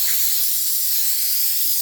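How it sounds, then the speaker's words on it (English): Rust-Oleum Appliance Epoxy spray paint hisses continuously from an aerosol can onto a refrigerator, a close, loud, steady spray without pause. "So this is the second tin of spray."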